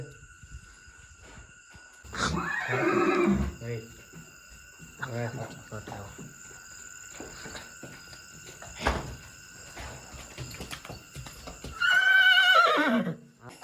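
A black Panch Kalyan horse whinnies loudly twice, one burst near the start and another near the end, with quieter voices talking and insects chirping in between.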